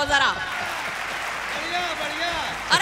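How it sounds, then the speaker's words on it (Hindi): An audience at a comedy-style stage event breaks into steady applause under a reverberant hall sound, with a voice heard briefly at the start and end. "अगर आनंद आया हो तो तालियां उठाओ जरा"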